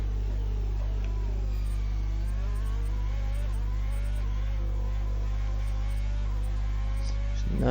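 Formula 1 car engine in the F1 2020 racing game at the Australian Grand Prix, a loud, steady high-pitched drone with harmonics rising as the throttle opens, continuous throughout and slightly swelling at the end.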